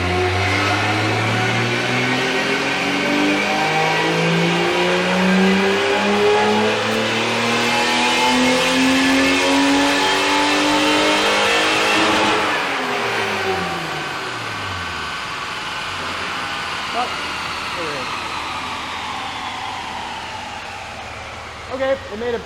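Stock BMW E30 325i engine revving hard on a dyno pull to 6,000 RPM, a loud rising multi-harmonic wail holding for about twelve seconds before dropping off and winding down.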